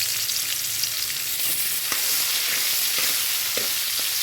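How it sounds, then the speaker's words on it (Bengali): Chopped onion frying in oil with dried chilli and black cumin, a steady bright sizzle with a few soft scrapes, close and even throughout. "একটা পেঁয়াজ আমি কুচি করে নিয়েছিলাম সেই পেঁয়াজটা আমি অ্যাড করে দিলাম এর মধ্যে"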